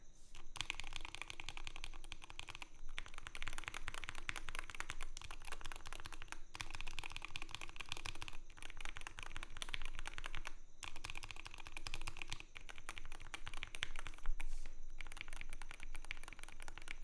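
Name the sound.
typing on keyboard with hand-lubed stock Wooting switches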